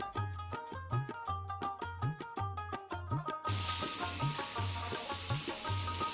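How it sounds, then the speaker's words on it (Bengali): Chopped onion and garlic fry in oil, a sizzling hiss that swells midway beneath rhythmic background music with a steady beat. "তো সেই জন্য এবার দুটোকে বেশ একসাথে এবার লাল করে ভাজবো"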